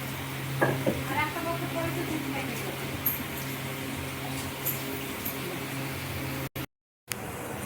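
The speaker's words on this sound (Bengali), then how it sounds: "এবার ছোট ছোট গোল গোল করে পেঁয়াজির মতো আকৃতি করে দিয়ে দিব এবার সব তেলের মধ্যে" Onion fritters (piyaji) frying in hot oil in a home kitchen, a steady soft sizzle with a low hum beneath and occasional light clinks of stirring, ending in a short gap of silence.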